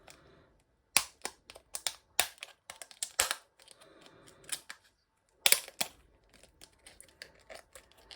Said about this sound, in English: So I'm just going to get my scissors and cut a little slot in one side.